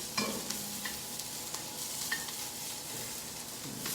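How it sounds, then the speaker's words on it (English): Chow mein sizzles in a hot pan while being stir-fried dry, with scraping clicks of a utensil over a steady frying hiss. "So constantly stirring that, not adding any liquid. Stir frying is a dry process."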